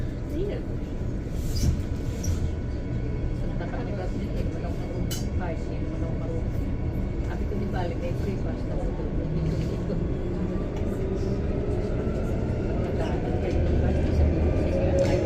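A Transperth train pulls away from Elizabeth Quay station in Perth, heard from inside the carriage as a steady, loud rumble of wheels and rail noise that builds slightly toward the end, with faint voices in the background.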